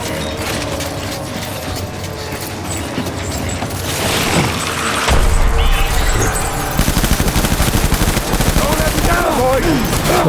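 Rapid bursts of automatic gunfire and heavy mechanical clatter from a war battle in the video game Death Stranding, loud and dense, building into a sustained barrage with faint voices underneath.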